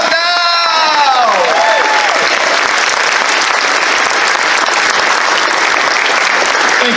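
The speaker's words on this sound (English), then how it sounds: "You can clap now!" Loud, dense applause from a large convention crowd at a closing ceremony, sustained throughout with scattered cheers and whoops, and a voice speaking over the start.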